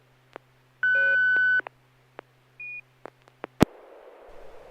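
A ham operator's test tone on an amateur radio SSTV net, heard as a steady sustained beep lasting under a second, a shorter second tone, scattered clicks and a loud pop, then a burst of noise.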